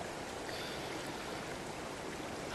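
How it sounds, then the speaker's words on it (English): Steady broadband rush of water flowing at a dam in the Open Country video game, continuous and even, fairly close, with no voices over it. "Find the valve control and stop the flow of water."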